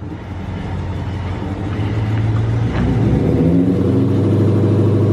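Car engine revving hard during a burnout attempt, a loud sustained roar that builds and climbs in pitch over several seconds, close and steady without talk.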